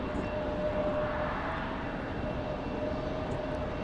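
Alaska Airlines Boeing 737-990 jet at Raleigh-Durham airport at night, a steady moderate engine roar with a faint whine running throughout.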